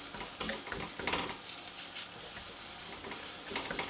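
Paratha placed on a hot tawa griddle over a medium flame gives a soft, steady sizzle and hiss with a few faint clinks of utensils, quiet and close, with no talking.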